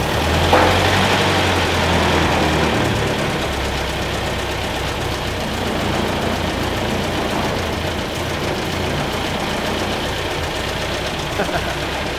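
A 1930 Ford Model A sedan engine runs steadily close by with a low, rough, knocking idle that holds fairly even throughout, with faint voices in the background.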